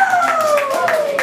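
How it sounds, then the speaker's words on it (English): Brief burst of clapping with a steady tone gliding downward underneath, loud and close. "Applause."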